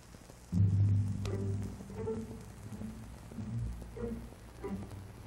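Soft, rounded pizzicato string plucks played with the fleshy part of the finger, low and muted, sound a handful of notes at a gentle, unhurried pace with quiet room noise underneath.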